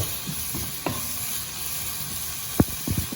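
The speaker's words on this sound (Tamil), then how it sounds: "கிளறி நல்ல ஹீட்டில் வந்து நல்ல சூடாக இருக்க சூடுலேயே வந்து அஞ்சு நிமிஷம் இதை வதக்கி எடுப்போம்" Chicken fried rice stir-frying on high heat, a steady close sizzle broken by a few sharp scrapes and clinks of a spatula against the pan, with no talking.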